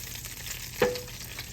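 Meat frying in oil for an old-school Sunday dinner, a steady broadband sizzle with one sharp clink of a utensil partway through, close and moderately loud, no talking.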